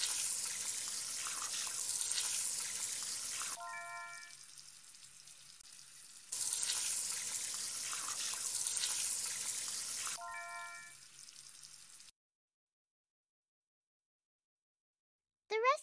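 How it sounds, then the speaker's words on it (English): In the Elinor Wonders Why video game, running tap water washes vegetables. It is heard as two hissing bursts of flowing water, each followed by short chiming game tones, and then silence. "Drag a vegetable under the running water to wash it."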